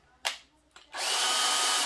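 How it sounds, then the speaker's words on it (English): A power drill bores pilot holes into wood for a coat rack, two short clicks and a brief blip followed by a sustained high motor whine as the bit runs steadily, close and loud. "we can pre-drill all these"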